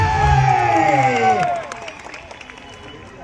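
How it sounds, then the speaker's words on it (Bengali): Football spectators cheer and applaud in a loud burst of crowd noise with voices mixed in, which drops away sharply after about a second and a half to a quieter murmur. "দর্শক সবাই মিলে জোরে একটা করতালি হয়ে যা করতালি"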